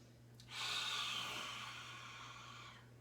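A single loud, forceful exhale in a yoga class, a breathy rush of air lasting about two seconds and tapering off, close up over a faint background hum.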